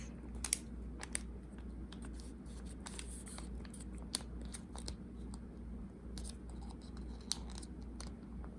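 Origami paper being folded in half while making a bat, a steady run of crisp crinkles, taps and sharp creasing clicks heard up close with no talking.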